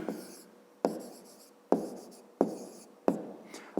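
A pen writes on paper during a fifth-grade math exercise. Five rhythmic scratching strokes, each starting with a crisp tap and fading, come close and clear with no voices.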